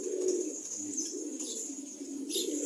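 Female pigeons coo in low, soft, rolling murmurs close by, steady throughout with faint higher chirps in the background.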